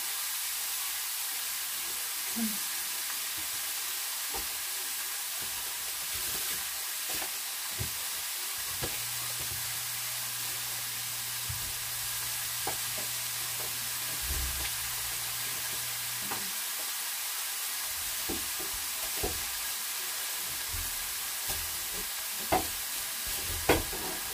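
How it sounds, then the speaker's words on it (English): Sauce for steak nachos simmering in a pan, a steady sizzling hiss that holds throughout with occasional faint stirring clicks and taps. "I'm just going to let it kind of simmer and cook down to how I want it"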